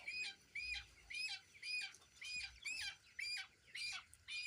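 Colour bird broiler chickens, 29 days old, squawking as they are caught for weighing, a series of about ten rhythmic, fairly faint squawks in quick succession with soft thumps beneath.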